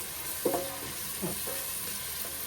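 Onion and garlic paste fries in a pan for a pumpkin curry, giving a low, steady sizzle with a few brief scraping stirs, fairly quiet and close.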